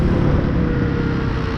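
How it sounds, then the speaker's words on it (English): Honda Hawk 250 motorcycle engine downshifting to climb a hill, a steady loud low drone with constant rumble and wind, no distinct rev change, no speech. "downshift a little bit to grab this hill"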